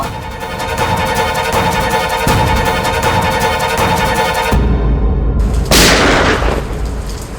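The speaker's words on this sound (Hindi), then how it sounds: "ये कहीं गोली चली है।" Gunshots ring out during a heavy rainstorm near a long-closed house, loud booming reports over a steady roar of rain, with a sharper burst near the end.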